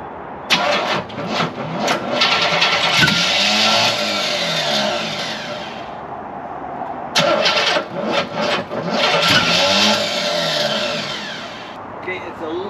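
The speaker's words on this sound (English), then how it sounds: "Alright, first start time." A 1968 Chevrolet Camaro SS engine fires up for the first time and runs at a loud, rough idle before cutting out. It then restarts and settles into a steady run, with a voice speaking briefly.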